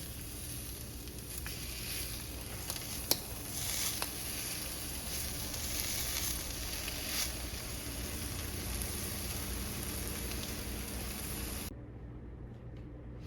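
Cheese quesadillas cook in a pan with a soft, steady low sizzle throughout, faint and even, with a couple of small clicks, then cutting off abruptly near the end.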